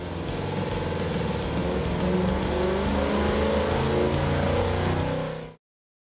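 A big block Chevy V8 engine starts and roars loudly and steadily, its deep rumble rising in revs before cutting off abruptly.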